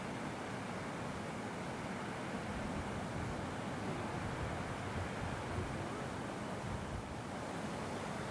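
A steady, even rush of rain and running water fills a Himalayan yak village in Nepal during monsoon rain, heard as a constant broadband wash with no breaks and no voices.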